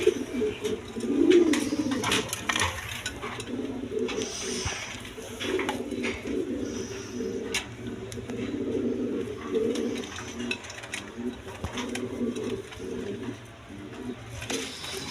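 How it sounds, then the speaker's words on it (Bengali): A big-sized pair of pouter pigeons coos steadily and softly at a pigeon seller's stall, a continuous low murmur with faint clinks and background noise throughout. "এইখানে এক পেয়ার পোয়াটার কবুতর আছে দেখেন পরমোনিয়াম পটার একদম বিগ সাইজের"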